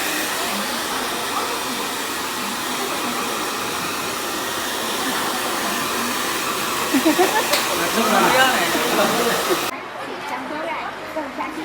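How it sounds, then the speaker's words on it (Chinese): Hair dryer blowing a child's hair dry after a haircut, a steady close whoosh running throughout, with brief rustling and chatter near the end before it cuts to a quieter room. "让大哥给你吹干就好了。"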